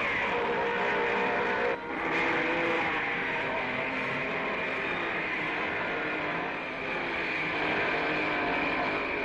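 Engines of 1955 Formula 1 racing cars, a Lancia and a Mercedes, drone steadily in a faint, distant, continuous whine with a brief dip, heard from afar without talk.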